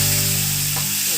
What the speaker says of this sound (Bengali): তেলের মধ্যে একটু তেজপাতা দিয়ে দিচ্ছি।